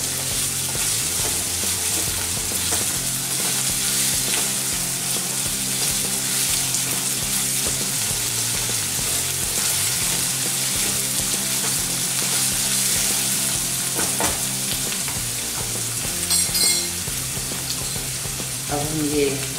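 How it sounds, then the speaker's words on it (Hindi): Vegetable Manchurian balls fry in hot oil over a high gas flame, giving a steady, close, dense sizzle that runs throughout, with faint stirring and no talk. "पहले फ्राई करके लेंगे। गैस की फ्लेम बड़ी रखेंगे।"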